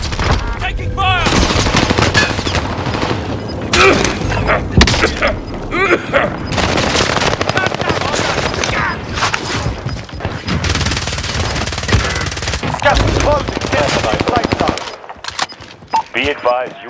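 Heavy gunfire in Call of Duty Warzone on Rebirth Island: sustained automatic bursts and booming shots pile up almost continuously, loud and close, with game radio voices over the fire before it drops off near the end.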